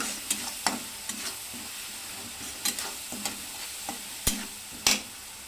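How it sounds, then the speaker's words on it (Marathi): Parasbhi bhaji with coarsely ground roasted peanut paste is stirred in a pan, quiet frying sizzle punctuated by sharp scrapes and knocks of the spoon at irregular intervals, close and without talk. "आता ह्याला पण छान असं परतवायचं आहे।"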